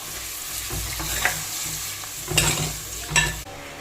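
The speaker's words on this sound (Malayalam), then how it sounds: "അപ്പോൾ നമുക്ക് ഇനി പുളിവെള്ളം ഒഴിക്കാം." In a frying pan of dried shark and plantain curry, a few bursts of stirring and sizzling are heard, with spoon scrapes and hissing surges as tamarind water goes into the hot spices.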